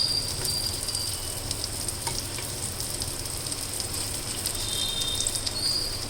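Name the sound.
egg and oats mixture sizzling on a pan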